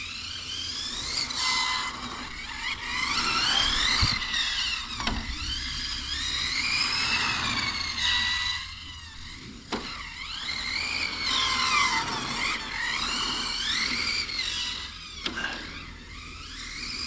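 A Hobao VTE carbon electric RC car races around a track with a high whining motor that rises and falls in repeated swells, and tires scuff the surface now and then, with no talk over it.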